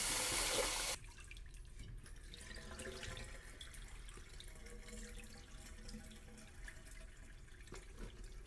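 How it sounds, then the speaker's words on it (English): Aquarium gravel being rinsed under a running tap for a classroom oyster tank, a steady close rush of water pouring and splashing throughout, with a louder burst at the start. "Really important that you rinse this stuff really good before you put it in."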